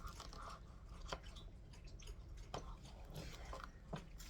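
A pet named Leo lapping water up close, with soft wet clicks and splashy laps repeating in an irregular rhythm against a quiet room.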